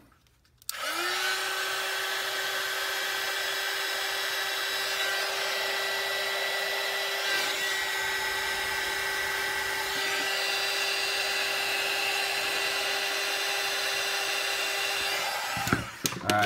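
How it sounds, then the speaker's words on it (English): A heat shrink blower, a small hot-air tool, starts with a click and runs as a steady, close whine and rush of air over heat shrink tubing on a quadcopter build, then cuts off near the end. "Then we're going to take our trusty, where'd it go? Heat shrink blower, and we're going to blow them."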